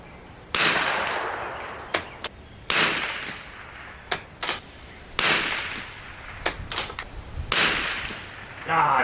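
A Springfield 2020 rimfire rifle fires at an outdoor shooting range. Four loud, sharp cracks come a few seconds apart, each with a short ringing decay, and fainter pops from other shots fall between them.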